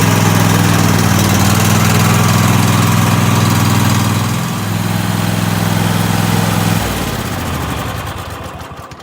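Cub Cadet lawn tractor engine idling steadily while warming up, a loud, close, even drone with a brief dip midway and a change in pitch near the end, no talking.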